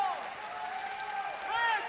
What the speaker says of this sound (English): Plenty for the crowd to cheer about.